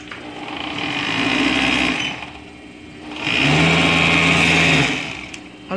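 A sewing machine stitches the side seam of a flared circle skirt in two steady runs of motor whir, separated by a short pause, loud and close with no talk.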